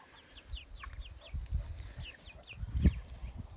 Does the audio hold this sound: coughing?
no